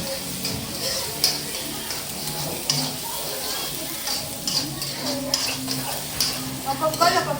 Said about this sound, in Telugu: ఆయిల్ హీట్ ఉంది కాబట్టి తొందరగా ఫ్రై అయిపోతున్నాయి